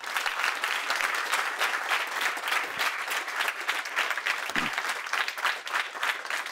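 Students at a maths course clap together in a thick, continuous round of applause, even and sustained from start to finish, with no voices rising above it.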